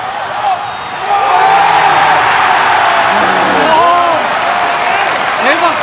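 A stadium crowd at a Manchester United vs Partizan football match applauds and cheers after a third goal. A loud surge of clapping and shouts swells after a quieter start, and nearby voices exclaim over it.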